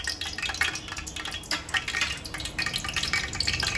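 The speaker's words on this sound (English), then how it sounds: "Here goes the oil. The dry spices go in first." Whole dry spices crackle and sizzle in hot oil in a pan at the start of cooking a Bangalore mutton dum biryani, with close, uneven popping and spitting and nobody speaking.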